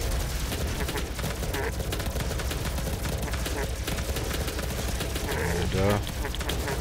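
Platinum rifle gunfire in a video game, heard as dense, steady rapid fire that runs loud through the whole stretch. Other game noise sits underneath, with a brief honk-like sound near the end.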